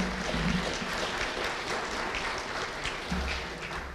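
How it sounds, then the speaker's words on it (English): An audience at the Racine State of the City address in 2016 applauds, a sustained wash of clapping from many hands at moderate volume that carries on for several seconds with no one speaking. "That's all right, you can clap."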